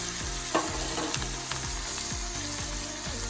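Chopped onion sizzles steadily in hot oil with asafoetida and spices while cooking moong dal shaak, with repeated scraping stirs of a spoon against the pan, close and continuous.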